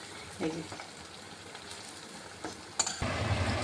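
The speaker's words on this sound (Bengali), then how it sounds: "এই যে আমি এখানে আরেক খোলা ভেজে নিচ্ছি" Palm fruit pitha frying in oil over a low flame, a soft steady sizzle with a couple of light stirring clinks, growing louder and fuller near the end, close by, with no speech.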